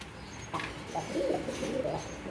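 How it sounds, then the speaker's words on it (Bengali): Large red deshi Bombai pigeons cooing nearby, a pair of soft low throaty coos rising and falling over a faint background hum. "লাল টকটকা একজোড়া দেশি বোম্বাই কবুতর, অনেক বড় সাইজের"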